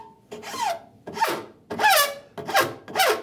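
A rasp shapes a wooden saw handle held in a vise, making five rough rubbing strokes at close range, each with a squealing, chattering resonance, and no voices.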